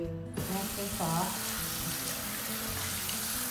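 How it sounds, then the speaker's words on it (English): Running water rinses a face cleanser off the skin, a steady broadband wash starting after a brief quiet moment and continuing close and even to the end. "And then we're going to rinse this off."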